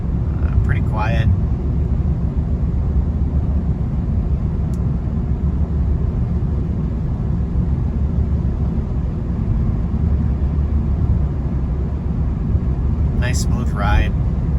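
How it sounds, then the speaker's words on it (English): A 2012 Mercedes-Benz SLK250 with a four-cylinder engine cruises down the road, a steady low rumble of engine and road noise from inside the cabin, with brief speech at the start and end. "let you listen to it going down the road"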